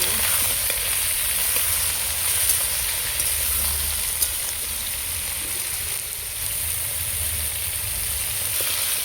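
Vegetables sizzle and crackle steadily in a hot pan for a rohu fish and raw tamarind curry, a constant bright frying hiss close by with occasional small pops, no talking.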